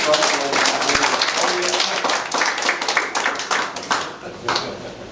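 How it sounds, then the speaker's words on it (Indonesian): Audience clapping at the close of an evening hybrid book discussion, uneven rounds of hand claps that swell and fade in waves over about five seconds, with a voice talking over them. "kita berikan tepuk tangan sekali lagi untuk yang sudah hadir pada malam hari ini"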